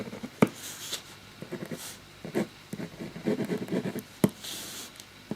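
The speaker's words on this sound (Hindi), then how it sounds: "कागज और पेन के बीच में जो आवाज है" A pen writing on paper gives soft, scratchy strokes in irregular bursts, close and quiet, with a few sharper taps between the strokes.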